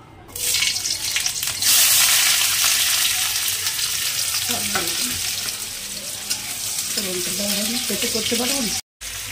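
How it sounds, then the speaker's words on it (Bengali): Chopped onion hits hot white oil in a heated wok with a loud burst of sizzling, then a steady crackling fry. Brief voice-like tones appear in the second half, and the sound cuts out for a moment near the end. "প্রথমেই কড়াই গরম হলে সাদা তেল দিয়ে পেঁয়াজ কুচি দিয়ে দিলাম।"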